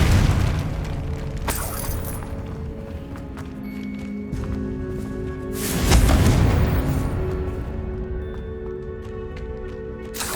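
The Confringo blast spell in Hogwarts Legacy goes off as a deep booming explosion with a rumbling swell around the middle, set against low ambient game sound and a few faint clicks.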